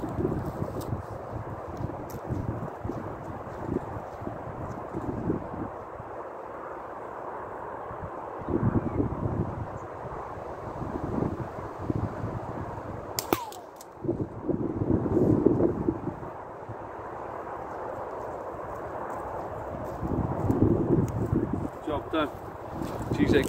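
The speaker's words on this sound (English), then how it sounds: "It's a bit windy out here." Wind gusting outdoors during catapult shooting at a penny target, rumbling and buffeting the microphone in uneven surges, heaviest midway, with someone talking over it for much of the time.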